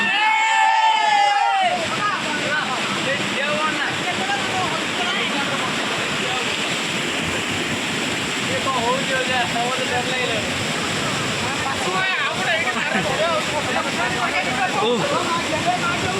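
Khandadhar waterfall in Sundargarh, water plunging 244 feet, gives a loud, constant roar of falling water across the whole span, with brief voices near the start and faint crowd noise beneath.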